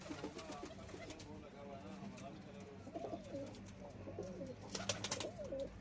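Several pigeons coo steadily in soft, rolling phrases close by, overlapping one another with some rustling in the background.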